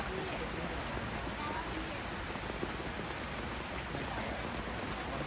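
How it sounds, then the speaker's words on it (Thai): Steady dense patter of rain falling continuously, a constant hiss with scattered drops, no pauses throughout. "ตอนนี้เราหยุดครับ ฝนเทลงมา เทลงมา เทลงมา"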